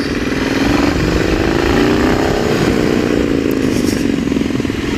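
Triumph motorcycle engine pulling hard in first and second gear on a winding mountain road, a loud continuous drone whose pitch rises and dips slightly, heard close with wind noise.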